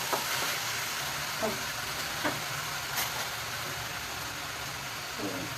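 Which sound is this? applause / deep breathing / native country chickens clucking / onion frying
onion frying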